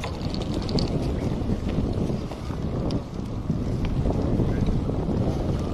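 Wind gusts outdoors on the grounds of Himeji Castle, a steady low rumble buffeting the microphone with little variation.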